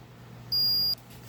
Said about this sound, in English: if you do a continuity test, I got my meter set up so you'll hear it beep